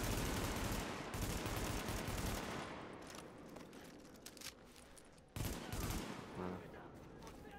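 Gunfire in the video game The Division, with rapid automatic bursts and shots rattling densely at first, then thinning into scattered reports with a sharp renewed burst late on, with a voice speaking briefly.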